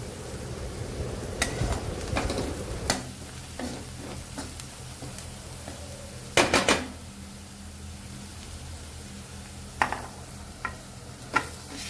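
Onion with turmeric sautés in oil in a pan while being stirred, giving a soft sizzle broken by scattered sharp taps and scrapes of the spatula against the pan.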